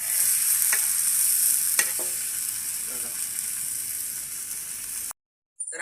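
A big tilapia fries in a pan, with a steady close sizzle and a few soft scraping taps before the sound cuts off abruptly near the end.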